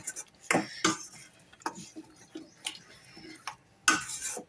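A utensil stirs masala puree mixed with curd in a pan, giving a series of close, irregular scrapes and metallic taps with short pauses between them. No one speaks.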